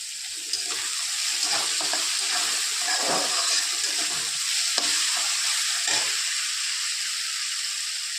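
Chopped tomato with a little salt fries and is stirred in a pan while making a bitter gourd chutney, a loud, steady sizzle with intermittent scraping strokes, close up and without talk.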